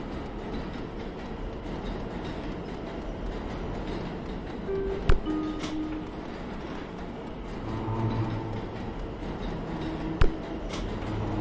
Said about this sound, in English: This train is moving, but they're only moving extremely light objects.